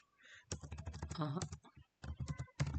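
Quick clattering keystrokes on a computer keyboard while typing Java code come in two close clusters separated by a short pause, with a brief voice in between.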